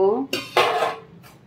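The lid of a cooking pot of boiling bottle gourd peels comes off, a metallic clank and scrape against the rim, close and brief, following a short spoken bit.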